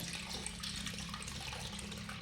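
Water drains out of a washing machine during a deep clean, a steady splashing gush pouring continuously into a tray, close and moderately loud with no talk over it.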